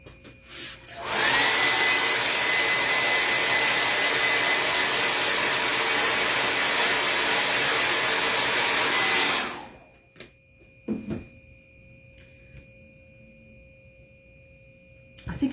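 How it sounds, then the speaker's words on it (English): A handheld blow dryer runs loud and steady for about eight seconds during a home crafting session, then cuts off, leaving quiet room sounds with a few small knocks. "Okay, it's about to get very loud with my blow dryer."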